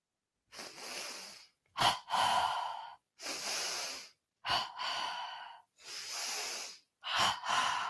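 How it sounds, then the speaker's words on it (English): Slow, deliberate breaths during a meditation, drawn in through the nose and let out through the mouth, come in close, regular cycles of inhale and longer exhale with pauses between. "Breathing in through the nose, out through the mouth and the nose."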